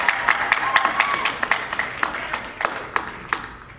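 A convention crowd at a Dragon Con panel with the Ghost Hunters TAPS team claps, the applause thinning into scattered, distinct claps while a voice talks over it.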